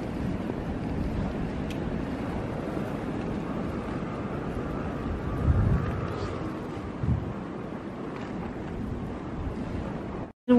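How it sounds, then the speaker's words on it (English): Hard wind roars steadily outside during a snow storm, a dense rumbling gust noise buffeting the microphone throughout, with a brief louder surge midway and faint voices underneath. "The wind blowing hard."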